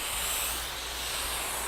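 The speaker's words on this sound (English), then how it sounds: "What you're hearing there is vacuum." A steady, fairly quiet broadband hiss of air being drawn through a Venturi vacuum generator fitting on a Rethink Robotics Sawyer robot, continuous and unchanging for the whole stretch, with no voices.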